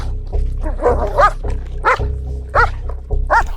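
A dog barks in a Caloocan City neighborhood, a run of four or five loud close barks at uneven intervals over a low steady hum, with no talking.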